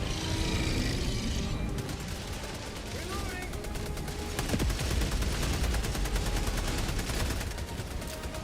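Sentry turret firing in Helldivers II, rapid repeated shots in a fast, steady rhythm through most of the clip amid loud battle noise, with a brief voice-like grunt.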